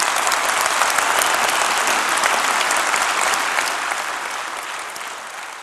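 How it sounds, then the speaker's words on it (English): Sustained applause from a keynote audience at a gaming fanfest, a dense, loud wash of many hands clapping together that continues steadily and then gradually tapers off toward the end. "Let's give him a clap."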